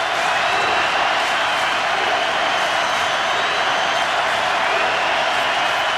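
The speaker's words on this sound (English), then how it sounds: "Crowd cheering defense" A college football stadium crowd at a Clemson–Miami game roars continuously for the defense, a dense, steady wall of cheering with no breaks.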